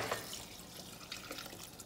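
Water poured into a pot of zucchini soup with chicken stock, a soft continuous splashing and trickling that runs steadily close by for about two seconds without talk.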